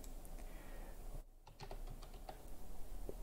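Soft, quick keystrokes patter on a computer keyboard, a brief run of clicks with a short pause midway, quiet and close with no talking.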